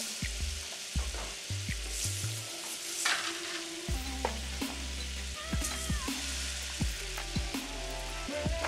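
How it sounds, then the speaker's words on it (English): Butter browning in a pan for an otaheite apple crisp, a soft steady sizzle and spatter with stirring, accompanied by a low rhythmic musical bass pattern in the background, no talk. "is to brown our butter"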